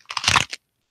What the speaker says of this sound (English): That was the crunch of a kosher pickle.